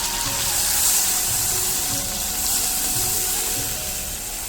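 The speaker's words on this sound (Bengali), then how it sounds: "আমি এখন পুরোপুরি জল দিয়ে দেবো" Water poured into a pan of frying spices and potatoes for a Bengali tangra fish curry, a steady broad hiss and bubbling sizzle that holds fairly loud throughout, with no voices.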